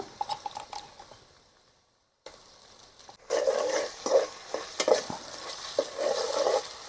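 Onions and chillies drop into hot oil in a pan for a chicken curry, a quiet rustle and brief pause before a louder sizzle begins with several sharp utensil taps against the pan.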